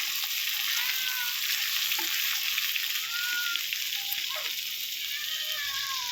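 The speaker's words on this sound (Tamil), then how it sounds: "இந்த பக்கம் வந்து ஃபிஷ் ஃப்ரை ரெடி ஆகிட்டு இருக்கு" Fish fry pieces, about five, sizzle steadily in hot oil in a pan, a continuous dense crackling hiss that holds loud and even throughout, with faint higher chirps and clinks over it.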